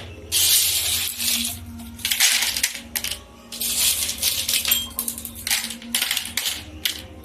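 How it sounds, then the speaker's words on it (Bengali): Small pieces of gravel poured into the bottom of a pot for planting succulents, landing in loose rattling bursts with short pauses between handfuls, close and fairly loud against a low background hum. "টবের তলায় বেশ কিছু সামান্য পরিমাণে খোয়া দিয়ে দেবো, যাতে জল নিষ্কাশন ব্যবস্থাটা খুব ভালো হয়"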